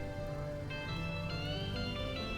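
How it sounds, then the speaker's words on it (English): Rain falls in the video game RimWorld as a steady, soft hiss beneath tonal game music, continuous and fairly quiet throughout. "And it is raining."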